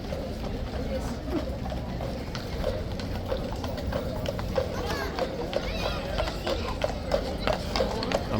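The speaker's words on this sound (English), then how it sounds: "Just as the police horses are coming through the" Police horses' hooves clip-clopping through a tunnel by the Horse Guards, a steady run of echoing hoofbeats with crowd chatter and voices mixed in throughout.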